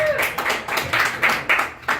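A comedy club audience claps steadily for the stand-up show's host. Quick, even handclaps repeat at a brisk pace, close and fairly loud, with a brief vocal sound at the start.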